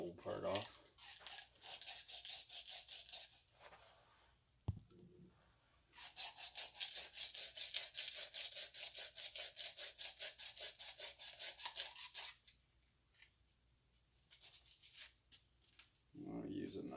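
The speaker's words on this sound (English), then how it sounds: "So I'm going to sand that off." Coarse 50-grit sandpaper rubs back and forth on part of an ice fishing rod in quick, rhythmic rasping strokes, in two long close bouts with a sharp knock between, and someone talks in the gaps.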